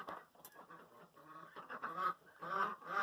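Ducks quack and honk in a nasal, overlapping chorus while eating feed on an organic farm, their calls close and fairly soft, coming in uneven bursts with no talking.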